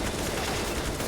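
Gunfire shot through a wall during a Counter-Strike professional match: a short, quiet, muffled burst of shots set into steady background noise.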